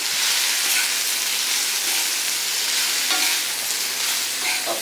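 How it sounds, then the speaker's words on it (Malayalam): Wild bitter gourd stir-fry being stirred in a pan with salt and spice powders, a steady close sizzle and frying hiss with soft scraping of the stirring throughout. "നമുക്കിത് നന്നായിട്ടൊന്ന് ഇളക്കണം."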